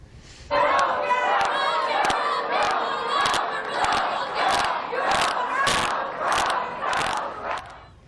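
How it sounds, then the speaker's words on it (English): Protesters boo the governor-elect as he is led off the stage at an indoor event, loud sustained crowd booing and shouting with sharp bursts and claps punctuating it. "what appeared to be Trump supporters turned protesters booing the governor-elect as he was led off the stage"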